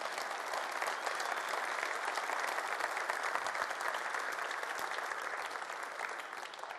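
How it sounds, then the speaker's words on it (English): Dense, lively applause from a large audience at an MC event, a continuous crackle of many clapping hands that holds strong for several seconds and fades a little at the close. "let's give them a round of applause"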